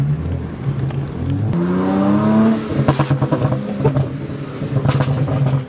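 A tuned 460 whp BMW 335i with an N54 engine and the stock automatic transmission pulls hard from inside the cabin, its engine note climbing steeply in pitch before a quick upshift, then a rumbling, pulsing drone as it keeps accelerating.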